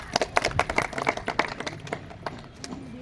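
Crowd at an election rally applauds a woman politician with scattered, fairly distant clapping that comes in quick bursts, then thins out and fades toward the end.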